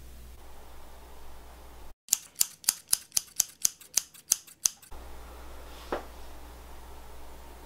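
Scissors snip through hair close by with about a dozen crisp, evenly spaced cuts, set against a quiet room hush.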